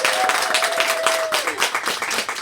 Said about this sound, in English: Can we give our hottie hostess one heck of a round of applause for having us?